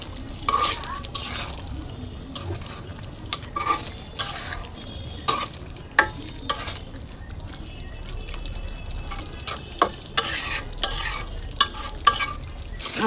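A chicken tehari mixture with green chilies, salt and a splash of water is stirred in a pot, giving repeated scraping and clanking strokes over a low sizzle, close by.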